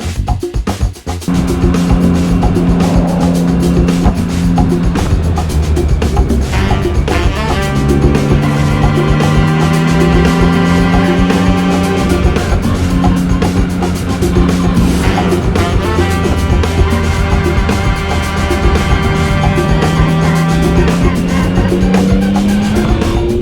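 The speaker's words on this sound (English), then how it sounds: "So let's take this bike out for a ride." Yamaha MT-09 naked motorcycle being ridden, loud engine revving up and down through the gears with rising and falling tones, continuous and close after a brief quieter start.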